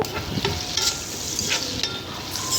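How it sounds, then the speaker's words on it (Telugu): Green chillies and curry leaves crackle and sizzle in a hot pan, punctuated by several sharp stirring scrapes, loud and close with no speech. "మూడు పచ్చిమిర్చి వేసుకొని అయితే ఫ్రై చేసుకుంటున్నానండి"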